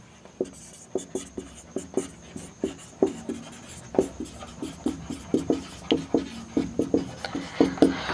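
A teacher writes an equation on a board in a coordinate geometry class, producing a steady run of short, sharp tapping strokes close by with no talking.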